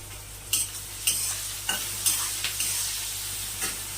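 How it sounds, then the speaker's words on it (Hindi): Vegetables for chow Manchurian stir-fry in a pan with a steady close sizzle, broken by several sharp scrapes and clacks of the stirring spatula at irregular intervals. "तो यहाँ देखिए सब्जियाँ भून रही हैं फ्रेंड"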